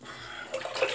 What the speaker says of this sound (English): I'm gonna rinse the brush